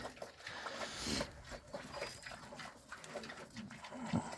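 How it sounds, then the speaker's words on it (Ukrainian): Pigs grunt and snuffle close by in an uneven stream at feeding time, with occasional louder squeals and snorts. "годую свиней."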